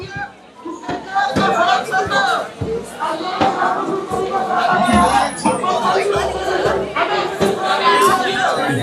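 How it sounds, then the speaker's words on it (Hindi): A large night-time crowd of protesters gathered at Jantar Mantar, a steady loud hubbub of many overlapping voices with occasional shouts and knocks, continuous throughout. "ठीक ठाक भीड़ इकट्ठी है"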